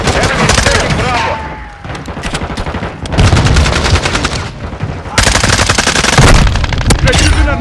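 Loud, rapid automatic gunfire from Call of Duty: Modern Warfare II, with long submachine-gun bursts broken by a couple of brief pauses and sharp close-range cracks.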